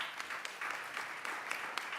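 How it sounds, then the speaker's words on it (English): Audience applause at a startup founders' pitch stage at a Riga tech conference, a steady dense patter of clapping held for the whole stretch with a few sharper claps standing out. "A round of applause for Ska."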